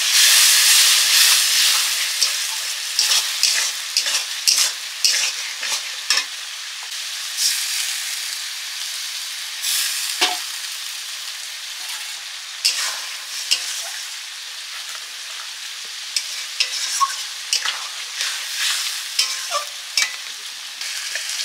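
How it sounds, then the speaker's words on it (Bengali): Potatoes and a spice paste of ginger, turmeric and chilli sizzle loudly in a pan, with frequent clattering stirs and scrapes breaking through the constant hiss of hot oil, close up and without voices. "আলুগুলো ভাজা হয়ে গেছে, মশলা কষানো হয়ে গেছে"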